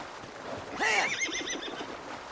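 A horse in Assassin's Creed Valhalla lets out a single close, bright whinny that rises and wavers for about a second before trailing off over quiet game ambience.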